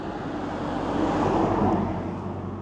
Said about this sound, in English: Van coming this way.